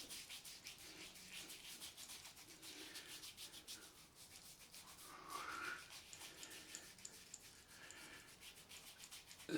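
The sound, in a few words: rubbing product into skin after straight razor shave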